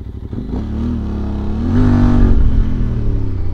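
A QJ Motor motorcycle engine revs up from a steady idle, its low growl rising and swelling louder before holding at a strong, throaty roar.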